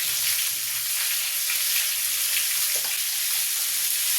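Pointed gourd (potol) frying in hot oil for a Bengali prawn dish, giving a steady, dense sizzle with faint stirring clicks, close and continuous without speech.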